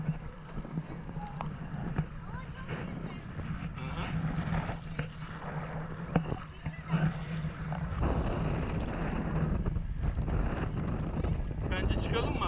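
Wind blowing steadily across the microphone on a river during a paddling outing, a constant broadband rush with gusts that swell louder toward the end, with people talking now and then.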